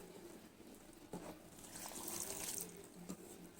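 Water is poured by hand into bread dough in a home kitchen, a faint, soft trickle with a few light splashes, quiet and close.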